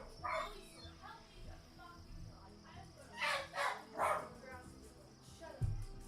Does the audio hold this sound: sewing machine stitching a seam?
no